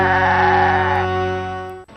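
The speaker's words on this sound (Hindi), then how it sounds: "शाहरुख कोई ऐसा वैसा बकरा नहीं है, स्पेशल है, फरिश्ता है वो।" A goat lets out one long, loud bleat close by, wavering in pitch and holding for nearly two seconds before stopping abruptly.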